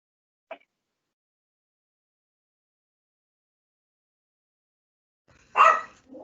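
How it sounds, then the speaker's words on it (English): A dog barks somewhere in the background: one short yelp, then a longer louder burst near the end, with silence between. "my dog's going a bit crazy in the background"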